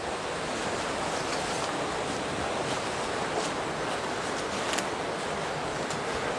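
Water rushes steadily through a drainage passage into pipes outdoors, a loud continuous broadband hiss with no pauses and no voices.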